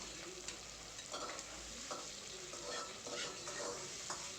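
Tomatoes and chili being stirred in a frying pan give a faint, continuous sizzle with soft, irregular scraping and stirring noises, heard quietly without talk.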